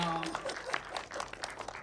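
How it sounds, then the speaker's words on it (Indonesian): Audience at a digital media masterclass briefly applauding, scattered claps over a faint murmur, with a voice trailing off at the start. "Boleh tepuk tangan?"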